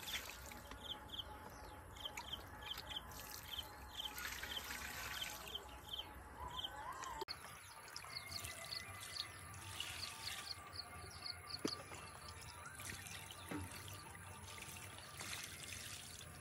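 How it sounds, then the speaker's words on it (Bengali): Water is gently poured by hand over soil in a pot holding a lotus tuber, a quiet, continuous trickle with faint birdsong in the background. "এরকমভাবে জলটা দিয়ে দেবো পুরোটাতে, হাত দিয়ে দিয়ে হালকা করে ফ্লো করে দেবো"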